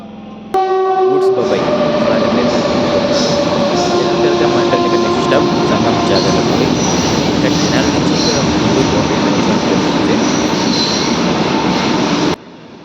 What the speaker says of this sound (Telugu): తెనాలి నుంచి మన ట్రైన్ బయలుదేరింది